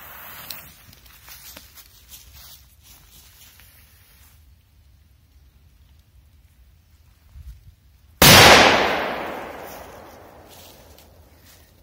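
A single loud firecracker bang goes off after several seconds of quiet rustling, its sharp crack trailing into a fading echo.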